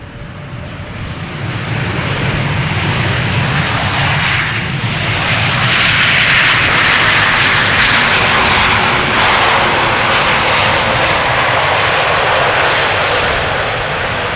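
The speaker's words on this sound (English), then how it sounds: "Flight 994 arriving from Paramaribo in Surinam. A330-200 rental." An 11-year-old Airbus A330-200 on Surinam flight 994 from Paramaribo comes in to land at Schiphol Airport, its engines a loud, steady roar that swells and holds throughout with broadband rushing noise.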